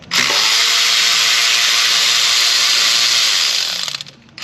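An electric ratchet with an extension and swivel spins bolts out of a Ford F150 5.3 Triton engine during teardown, a loud continuous high-pitched motor whine that runs for about four seconds before dropping off, with no talking.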